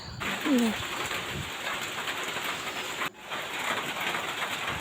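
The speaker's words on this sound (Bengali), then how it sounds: "বাইরে প্রচুর বৃষ্টি হচ্ছে" A heavy downpour roars steadily outside, heard from a balcony, with a single brief pigeon coo near the start and a short dip in the noise partway through.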